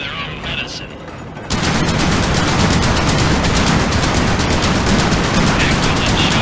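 Rapid, relentless gunfire in the World War II game Medal of Honor: Above and Beyond, a dense rattling fusillade that erupts after a quieter opening and stays loud and continuous throughout.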